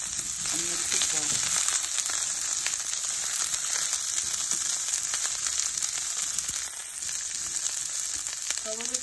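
Cauliflower and zucchini frying for a yellow Thai curry, giving a steady, loud, close sizzle that runs throughout with occasional light scrapes of mixing.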